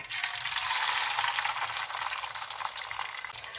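Egg batter sizzling in hot sesame oil for a Jaffna-style egg poriyal, a steady bright crackling hiss that stays even and close throughout, with no talking.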